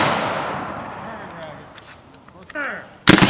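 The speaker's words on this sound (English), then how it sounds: "Fire in the hole." Cannon fire at a drill rings out as a loud boom that fades away. A shouted voice follows, then another sharp, heavy blast cracks out at the very end.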